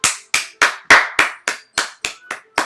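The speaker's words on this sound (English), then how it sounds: "finishes and we applaud" Applause after a poem reading in the video game Doki Doki Literature Club: about ten crisp, evenly spaced single hand claps, close and clear, roughly three per second, with no speech over them.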